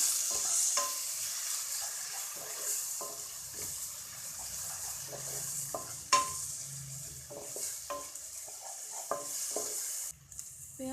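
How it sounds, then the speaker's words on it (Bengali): Onion, ginger, garlic and green chili paste fries in a pan with lightly browned onion for a rohu fish curry, producing a soft continuous sizzle broken by repeated scraping stirs and a few sharper clinks, without talk. "ভালো করে কষিয়ে নেবো।"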